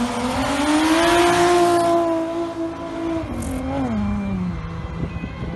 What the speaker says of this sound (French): c'est un Renault 21 2 litres turbo de 92, moteur 4 cylindres en ligne, injection électronique